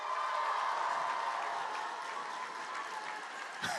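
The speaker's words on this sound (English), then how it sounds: "Everyone, give it up for the Christians." A conference audience gives steady, dense applause for a stand-up comedian's set, the clapping filling the hall at an even level before a brief louder burst at the end.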